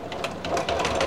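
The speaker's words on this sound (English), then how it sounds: "I'm sewing over my pins." A sewing machine stitches a gathered shoulder ring sling in a short, rapid burst of rhythmic mechanical clatter, close and steady, with no talking.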